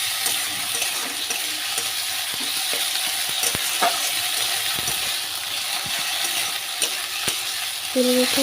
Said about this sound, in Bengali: এটা হচ্ছে আদা রসুন আর গোলমরিচ বাটা ভালো করে মশলা করে ভেজে নেব